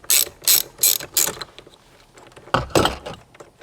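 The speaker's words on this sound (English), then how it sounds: "first we're going to undo this bolt in the center" A ratchet undoes the steering wheel center bolt on a Toyota Tacoma. Four quick, close bursts of clicking are followed by a short pause and then two more bursts.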